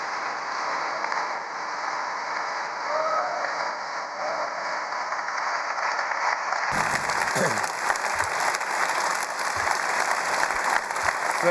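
An audience at an independence referendum anniversary event in Edinburgh claps to welcome Scotland's First Minister John Swinney, sustained dense applause that swells louder partway through and carries on to the end without pause.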